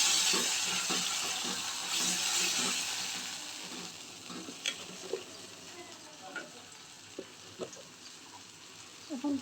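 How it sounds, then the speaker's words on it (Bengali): Onion softening with ginger garlic paste in a pan gives a soft, steady sizzle under a faint hiss, with a few light clicks of stirring near the end. "পেঁয়াজটা একটু ভেজে নেব নরম করে"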